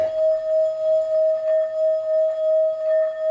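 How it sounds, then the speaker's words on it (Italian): A rubbed Tibetan singing bowl gives one steady, sustained ringing tone with bright overtones, slowly pulsing in volume as the rim is circled, loud and close with no talking. "Questo è il suono della campana tibetana, facendo soltanto questo movimento qua."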